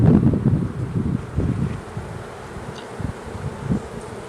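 Honeybees drone at an open hive during an inspection, a low, steady buzz that swells and fades in soft pulses with some wind rustle over the microphone.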